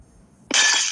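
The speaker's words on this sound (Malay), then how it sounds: "Ada bunyi kaca pecah." Glass shatters suddenly in a Roblox horror video game: a sharp, bright crash breaks out of near silence and then rings on as a loud, sustained spray of shards.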